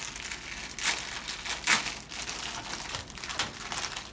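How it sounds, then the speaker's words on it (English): Plastic or paper packaging of pharmacy supplies is opened by gloved hands in a hospital preparation area, giving close crinkling and crackling rustles with a few sharper tearing bursts. "Open packaging."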